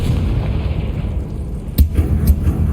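Confringo spell explosions in Hogwarts Legacy on PS5: a heavy, rumbling game soundscape punctuated by two or three short, punchy blasts near the end.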